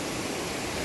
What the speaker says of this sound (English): Yeah, I think the next waterfall is right there.